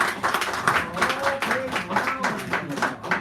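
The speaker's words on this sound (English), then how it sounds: "give her a round of applause right now" Scattered clapping from a small café audience at an evening poetry reading, uneven and moderately close, with voices talking and cheering over the claps the whole time.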